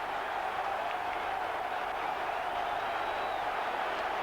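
A football stadium crowd at Arsenal versus Liverpool in the 2005/06 season applauds Henry's goal, a steady, dense wash of clapping and crowd roar heard from a distance with no break.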